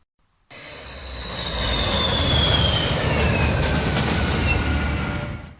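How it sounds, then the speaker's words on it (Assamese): Indian Air Force fighter jets and transport aircraft, Rafale, Sukhoi and Hercules, fly over Moran at an air show rehearsal, a loud roar that bursts in after a short silence and holds steady as it sweeps past. "মৰাণৰ গছপুৰীয়াৰ আকাশত যুঁজাৰু বিমানৰ গৰ্জন"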